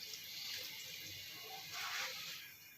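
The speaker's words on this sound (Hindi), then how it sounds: "लो फ्लेम के ऊपर इसमें मैं ये गुड़ वाला पानी इसमें डाल रहा हूँ।" Jaggery water being poured into a pan set over a low flame in a home kitchen, a steady liquid splashing hiss with a brief louder surge toward the end, close and fairly quiet, with no talking.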